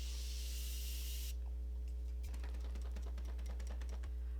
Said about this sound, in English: And I'm gonna spray myself once again.